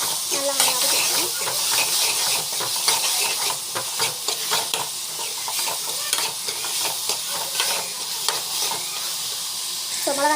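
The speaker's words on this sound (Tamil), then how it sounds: "பெருங்காயம் வந்து ஆட் பண்ணிக்கணும். நல்லா வந்து வதக்கிட்டுக்கோங்க" Asafoetida sautéing in a hot pan gives a steady close sizzle and hiss, with frequent scraping stirs of a spoon across the metal throughout.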